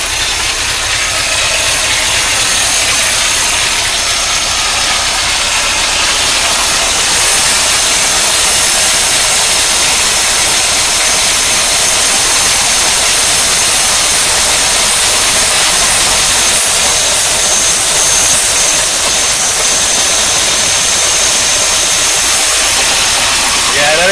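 1953 Oldsmobile Rocket Super 88 barn-find engine running, a loud steady idle with a hissing, rushing character throughout, close up and continuous, no talking.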